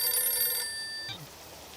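A telephone rings in a household setting, an electronic trilling bell tone sounding for about half a second, then fading into a quieter sustained tone and a brief low knock.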